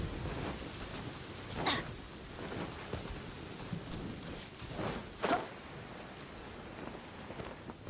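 Steady rain hisses in the Genshin Impact video game while two sharp thunder cracks strike a few seconds apart, each followed by a short rumble, with no talking.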